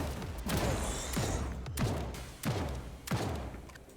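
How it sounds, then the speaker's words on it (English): Shotgun firing in the video game Reclamation, five heavy booming blasts spaced roughly evenly, each with a short descending ring, no talk over them. "So this is a shotgun. It's fired whole bunch faster."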